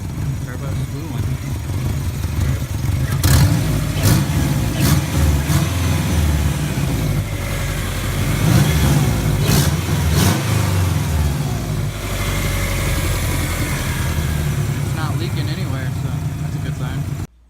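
A turbocharged Subaru engine with a slightly rough idle runs close by, rumbling steadily through several sharp revs in the middle while the turbo spools, with someone talking over it.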